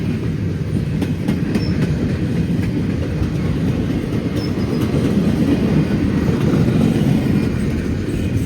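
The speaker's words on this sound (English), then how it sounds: "I believe this train runs out of Kansas City to Norfolk, Virginia." Freight train running from Kansas City, Missouri to Norfolk, Virginia rolls past close by on a main line, a loud continuous rumble with rhythmic clickety-clack of wheels over rail joints and faint high squeals.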